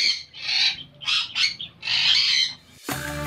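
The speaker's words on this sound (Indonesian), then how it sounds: "Burung yang memiliki paruh bengkok ini punya suara yang cukup keras." Loud, harsh squawks of hooked-beak parrots at a bird park burst out in several noisy bursts, overlapping and raucous, close by, with a short gap before a final burst.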